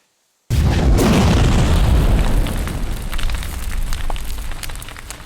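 A fireball explodes with a sudden loud, deep boom out of silence, then a long roaring rumble with crackling debris that slowly fades, used as a fantasy battle sound effect.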